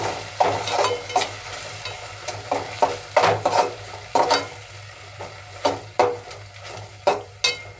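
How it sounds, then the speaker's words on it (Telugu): A spoon stirs a tomato sauce and soy sauce mixture for gobi manchurian in a pan, giving rhythmic scraping strokes and clinks over a light sizzle, with no talk. "ఇప్పుడు బాగా మనం కలుపుకున్నాం ఇవన్నీ"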